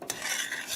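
A brief scrape of a utensil stirring melted butter and flour in a pot, one short swish over a soft steady hiss.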